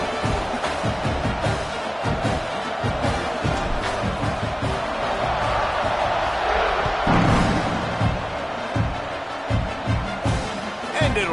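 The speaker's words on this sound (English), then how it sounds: "This place is roaring, and it's going to be so hard to operate under these conditions." A packed football stadium crowd roars steadily and loudly at kickoff, a dense wall of cheering and yelling that swells midway and keeps going throughout, with a commentator's voice faintly under the noise.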